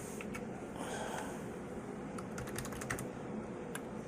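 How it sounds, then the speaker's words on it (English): Close, quiet computer keyboard typing, with a quick run of key clicks in the middle and a few isolated taps before and after over a soft background hiss. "I'm just going to type player DNA"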